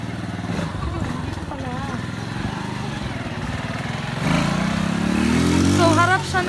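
A motorcycle engine drones on a mountain road in a barangay, growing louder as it nears and revs, while people talk over it.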